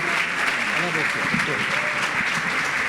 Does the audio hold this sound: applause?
yes